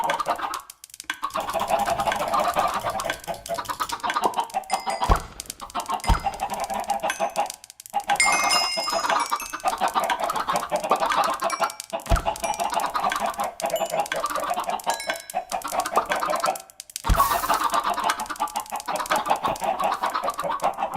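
Chickens clucking in the video game Minecraft, a steady chorus of overlapping clucks and squawks that runs throughout, fairly loud and close, with brief gaps and no talk.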